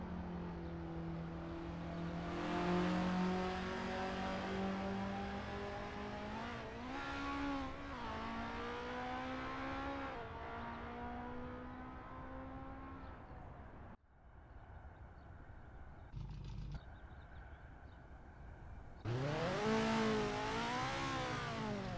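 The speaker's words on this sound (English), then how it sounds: "The engines are revving up and the drivers are ready to hit the gas pedal for this qualifying session at Zandvoort OSRW." Race car engines rev hard in a sim racing game during qualifying at Zandvoort, a steady rising and falling whine through gear changes, then a short lull with a brief blip before a loud close-up rev-up at the end.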